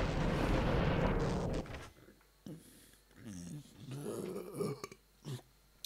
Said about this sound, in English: Excuse me, that was me burping.